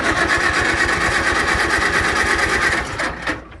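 A small engine fitted with a Chinese carburetor runs on choke at about a third throttle, a loud steady buzzing drone that sputters and dips near the end.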